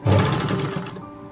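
A sewing machine stitches the front edge of a designer kurti in a short, fast whirring run up close, then stops abruptly, with no talking.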